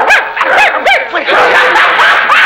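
Several dogs bark and yip close by in quick, overlapping bursts, some with whining, rising cries, loud and frantic over a couple of seconds.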